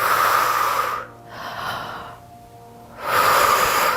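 A slow exhale during gentle antenatal yoga stretches, a soft breathy rush that fades out, pauses, and then returns, close and steady with no talking.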